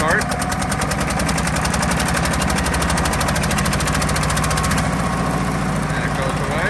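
A 1958 Porsche Diesel Junior 108 K tractor's diesel engine idles steadily after a cold start, a loud, close, rapid knocking chug that runs unbroken, with a person talking over it.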